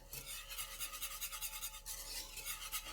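A whisk scrapes rhythmically around a pot of coconut banana cream pie filling on the stove, quick repeated raspy strokes, close and fairly quiet with no talk.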